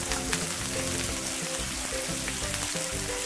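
Green chillies and onion sizzle and fry in hot oil in a pan for aloo bread roll filling, a steady close crackling hiss with faint stirring.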